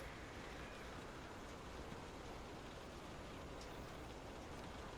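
Steady rain falls in a Kingdom Hearts game scene, a soft, even hiss of rainfall that runs unbroken throughout with no other sounds.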